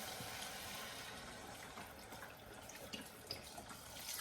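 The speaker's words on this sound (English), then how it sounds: "So I'm going to pour the whole container in." Liquid pours from a container into a pot of easy vegetable soup, giving a quiet, continuous splashing stream that runs the whole time with small bubbling spikes toward the end and no talking.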